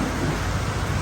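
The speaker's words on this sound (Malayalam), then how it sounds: "കണ്ട നല്ല മഴ കേട്ടാ. ആദ്യമായിട്ടാണ് ഉത്സവത്തിന്റെ സമയത്ത് ഇങ്ങനൊരു മഴ കാണും ഇവിടെ." Heavy rain pours during a Kerala temple festival, a dense, steady hiss with low rumble filling the short stretch, loud and unbroken, with no voices.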